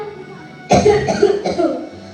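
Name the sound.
coughing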